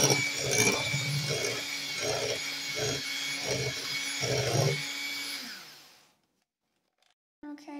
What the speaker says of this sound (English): we're just gonna like scrape it and whisk it again